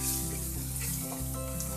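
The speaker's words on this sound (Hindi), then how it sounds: "यहाँ पर हम इसको थोड़ा सा फ्राई कर लेंगे ताकि लहसुन का जो कच्चापन है वो खत्म हो जाए" Cumin seeds and finely chopped garlic frying in hot oil, a steady close sizzle running throughout with no voices.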